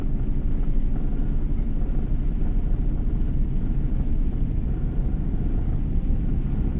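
A Volvo truck with a 12+2 transmission drones with a deep, steady engine rumble close by as the driver works the clutch and shifts gear, a constant low roar with no clear pauses.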